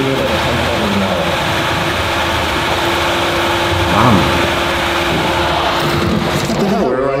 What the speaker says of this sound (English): Loud exhaust.